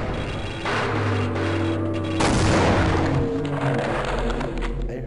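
Grenade explosion mixed with gunfire in the Half-Life video game, a loud broadband blast and crackling shots sustained throughout with a heavy low rumble near the end.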